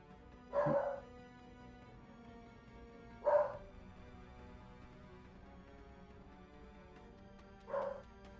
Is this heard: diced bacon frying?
no